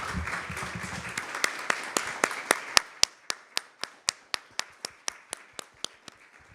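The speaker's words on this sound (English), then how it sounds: "let's give them a big round of applause." Audience clapping for a welcome-center guest during a talk on devotional practice. The first second is a dense spread of many hands, then a slowing run of about twenty single sharp claps.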